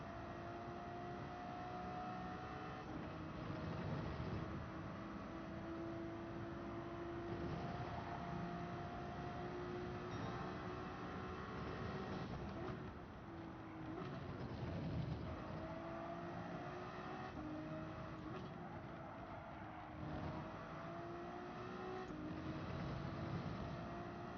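A BMW race car in the GT7 video game laps Laguna Seca, its engine a steady, loud droning whine that rises and falls with gear changes throughout, with no pauses.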